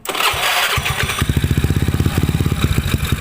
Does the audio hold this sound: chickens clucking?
no